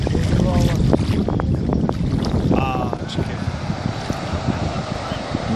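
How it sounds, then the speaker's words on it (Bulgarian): Breeze rushes steadily across the microphone while kayaking on the Kamchia river near the sea, a continuous buffeting wind with faint water and paddle sounds beneath. "Обаче виж бриза веднага почна духа."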